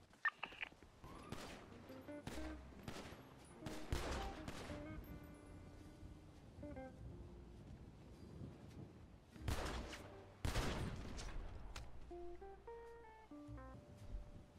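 Bursts of gunfire crack through a multiplayer shooter battle in a Little Italy area, with sharp loud volleys, rapid automatic strings and more distant shots spread across the scene, layered over faint game music tones.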